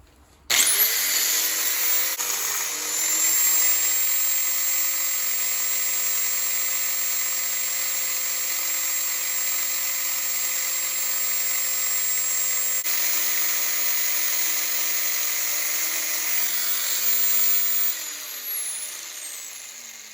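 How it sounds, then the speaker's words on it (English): An angle grinder cuts into aluminum in a long, steady, loud high-pitched whine that holds for nearly twenty seconds, then eases and winds down as the tool is pulled away. "We got a grinder and some aluminum. Now let's start doing something with it"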